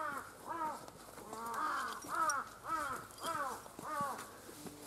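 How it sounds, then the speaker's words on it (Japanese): Crows caw repeatedly along an old rural road in Tōme, Miyagi, Japan; a series of harsh, rhythmic calls in close succession, moderately near, with no talking over them. "カラスがずっと鳴いてますね。"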